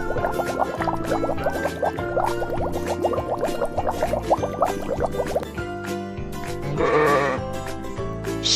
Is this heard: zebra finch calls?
no